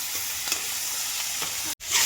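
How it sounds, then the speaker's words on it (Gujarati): Onions and chilies sizzle in a pan for a gravy curry, a close, constant frying hiss with light stirring clicks, cut by a brief silence near the end. "ડુંગળી ને મરચાં કકડે છે રહ્યા"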